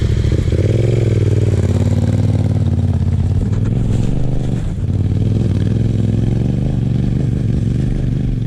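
Big motorcycles labouring along a rough outback trail in the Flinders Ranges near Mt Gill, engines droning loud and steady close by with constant rumbling and rattling, a brief dip in the middle, no talk.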